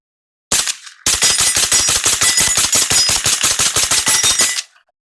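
A rapid string of rifle shots from an H&R 635 emptying the rest of a magazine outdoors, one opening shot then a fast, steady burst of loud cracks lasting about four seconds.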